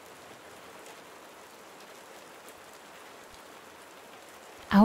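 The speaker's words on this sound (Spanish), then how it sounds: "Y es que la lluvia cae." Steady, soft rain falling, an even hiss of drops on a surface with no other sounds until a brief louder noise right at the end.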